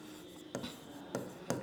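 Pen or chalk writing during a communication systems class, three short scraping strokes spaced unevenly, close and fairly faint against a quiet room.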